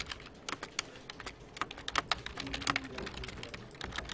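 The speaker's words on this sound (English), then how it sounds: "I'm currently pressing spacebar right now" Someone types on a computer keyboard, with a quick irregular run of sharp close clicks and taps, some louder thumps among them like spacebar presses.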